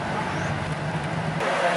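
Steady road rumble and engine noise fill the inside of a moving bus on the ride home from a swim meet, a constant close drone with no talk.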